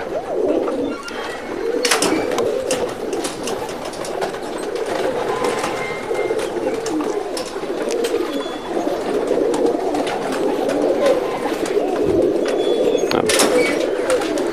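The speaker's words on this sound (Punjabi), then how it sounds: "ਇੱਕ ਹੋਰ ਇਹਨਾਂ ਦਾ ਬੜਾ ਅੱਛਾ ਕਬੂਤਰ ਹੈ" Pigeons coo repeatedly on a rooftop, soft throaty calls rolling on and off over a low hum of distant city noise, with brief faint background sounds.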